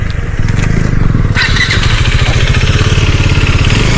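An off-road motorcycle engine runs close and loud on a mountain trail, a rapid throbbing putter that revs up sharply after a quieter start.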